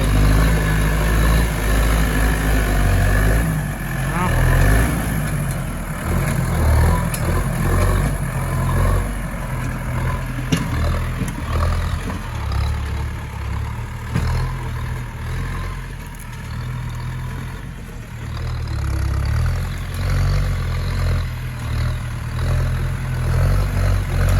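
A Massey Ferguson 4708 tractor of 85 horsepower with an Eco Power engine runs steadily nearby, a constant low diesel drone with mechanical clatter and slight shifts in load, no voices present.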